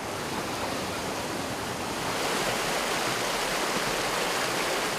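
The Gums river in Chechnya's Vedensky district rushes steadily as a dense, continuous broadband wash of flowing water, close and unbroken, with no voices.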